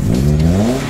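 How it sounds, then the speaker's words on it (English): A race car engine in a Toyota Gazoo Racing garage fires up and revs, giving a close, loud mid-pitched roar with a tone that climbs steadily, heard alone without talk. "let me give you a sneak peek of how the engine's gonna start"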